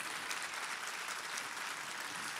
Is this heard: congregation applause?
yes